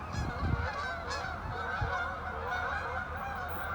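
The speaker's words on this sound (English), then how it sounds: "A lot of geese flying by." A flock of geese honks repeatedly as it flies past near railroad tracks, the calls loud and overlapping at first, then thinning into scattered honks over steady outdoor background noise.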